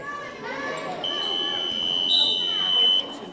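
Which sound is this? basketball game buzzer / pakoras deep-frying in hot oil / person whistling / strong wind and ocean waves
basketball game buzzer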